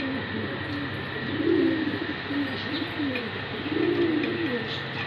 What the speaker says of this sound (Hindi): ये देखें, ये मेरे कबूतर हैं